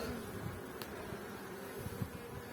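Steady, low buzzing of many honey bees at a hive fills the air without pause, a dense humming swarm heard close by.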